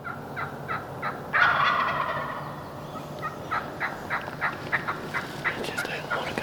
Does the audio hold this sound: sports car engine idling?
no